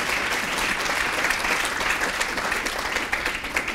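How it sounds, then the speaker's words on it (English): Steady, full applause from an audience at a 2018 Cincinnati Children's CHARGE Conference patient panel, a dense wash of clapping that holds evenly for several seconds with no voices on top. "I think we should give them another round of applause"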